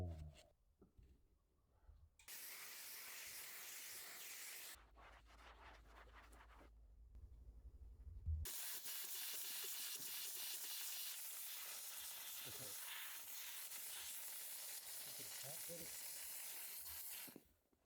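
Steam cleaner hissing across a filthy van floor treated with degreaser, broad continuous jets of steam starting and stopping in long bursts, fairly close, without talk.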